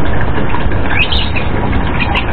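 Racing pigeons chirp and flap their wings close by, soft calls and fluttering scattered over a steady rushing background noise.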